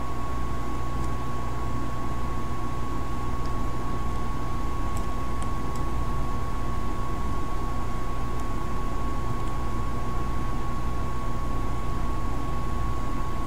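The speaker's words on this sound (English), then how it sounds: "I got my AC going in the background. If you hear any buzzing or humming, that's what you're hearing right now." An air conditioner runs on a hot day, giving a constant, even hum with a steady electrical whine and no changes throughout.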